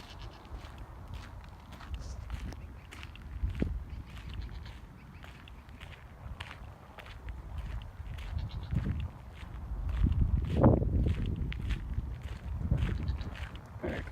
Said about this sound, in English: There's some goats in the background, or sheep.